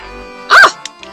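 A single sharp bark from a dog in the video game There's Poop In My Soup, loud and close, followed by a couple of faint clicks.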